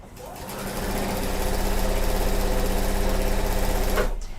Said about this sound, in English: I'm going to start stitching that on at the 1/4 inch seam